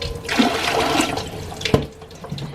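Water pours steadily from a low sink faucet into a tall canning pot, a continuous rushing splash that shifts as the pot fills, with a brief knock partway through.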